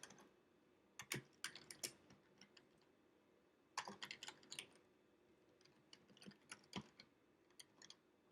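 Bursts of keyboard typing at a computer while coding, quick clusters of crisp clicks separated by short pauses, close and fairly quiet.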